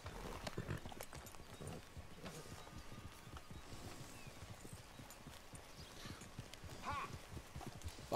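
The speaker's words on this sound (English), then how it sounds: "Man, Dutch has a nice horse." Horse hooves clip-clop at a steady, moderate walking rhythm in Red Dead Redemption 2, set against a low outdoor ambience with no clear talking.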